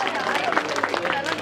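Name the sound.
audience applause at a poetry recital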